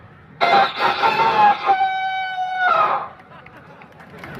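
A rooster crows once in a long drawn-out call with a rising start and a held, wavering end, fairly close, over faint background noise.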